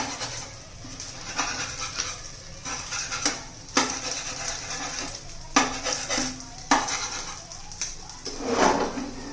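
Egg pieces for a restaurant-style egg chilli fry are stirred and flipped in a pan, with repeated scraping and clinks of a spatula against metal over a low, steady sizzle and no talking.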